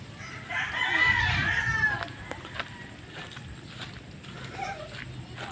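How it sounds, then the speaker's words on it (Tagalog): A rooster crows once nearby in a breeding pen, a drawn-out strained call, followed by quieter farmyard sounds and faint distant clucking. "Bago na naman yung uh, tandang na nilagay dyan."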